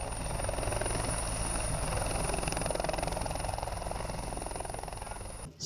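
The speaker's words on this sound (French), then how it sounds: "Dans le ciel de l'autre côté de la frontière, les bruits sourds des hélicoptères annoncent l'arrivée du chef de l'État nigérian." Helicopters arriving overhead near the Sèmè-Kraké border post fill the air with a steady, rumbling rotor thrum that holds at an even loudness for several seconds before cutting off abruptly.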